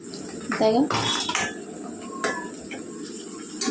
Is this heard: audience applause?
no